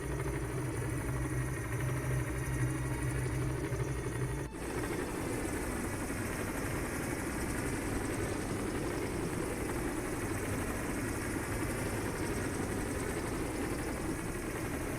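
A helicopter engine in Microsoft Flight Simulator 2020 drones steadily and loudly for the whole stretch, a dense mechanical whine and rumble with a brief dip near the start, no voices.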